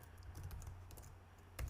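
Typing on a computer keyboard while writing Python code: quiet, quick clusters of key clicks in an irregular rhythm, ending with one firmer keystroke, with no talk.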